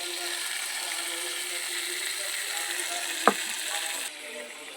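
A spice mix added to softened tomato frying in a kadai for a fish curry, making a continuous moderate sizzle with one sharp knock near the end before the sizzle softens slightly.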